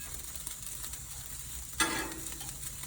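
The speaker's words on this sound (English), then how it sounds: "Let's stir our rice around a little bit." Fried rice stirred in a hot pan: a quiet background sizzle with a single sharp scrape-and-hiss burst partway through, no talking.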